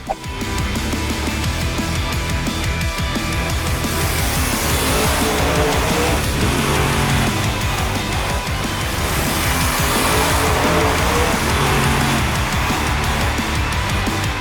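A 12,000-pound monster truck roars loud and steady throughout a bicycle stunt attempt on two wheels off a ramp, its engine noise continuous and broadband with crowd-like wash, no talk.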